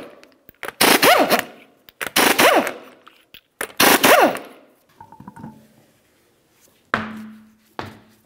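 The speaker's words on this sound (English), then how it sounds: "Continue on to removing all 5 of your 19mm lug nuts and then the wheel." An impact wrench removes 19mm wheel lug nuts from a raised vehicle wheel: three loud, close rattling bursts, each rising and falling in pitch, separated by pauses and followed by faint clinks and a short tonal buzz.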